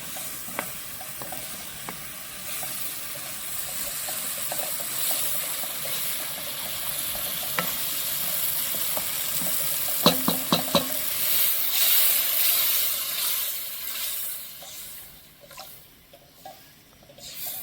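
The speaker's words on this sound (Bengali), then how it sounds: "এখন এর মধ্যে আমি পরিমাণ মতো জল দিয়ে 5-7 মিনিট মতো ফুটিয়ে নিচ্ছি" Tomato paste masala with added water simmering in a pan for paneer tikka masala, a steady soft bubbling sizzle with occasional light clinks and stirring taps, no talk.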